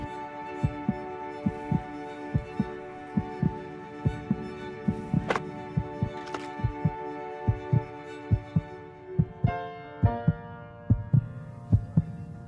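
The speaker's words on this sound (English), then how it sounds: "This song was created with heartbeats of children in need." A song built from recorded heartbeats of children pulses in a steady rhythmic thump of soft double beats under sustained tonal music, with a brighter melodic layer joining near the end.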